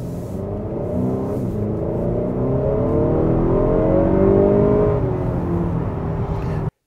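A 2018-or-later tenth-generation Honda Accord accelerates hard with its tires spinning, its engine a loud, steady drone whose pitch climbs gradually for several seconds before cutting off abruptly, with no talking.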